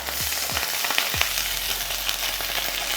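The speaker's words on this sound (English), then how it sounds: "you need to really fry that tomato paste so you can remove that raw tomato paste flavor" Tomato paste fries in a pan after unsalted butter, a dense, steady sizzle with a few soft scraping stirs near the start.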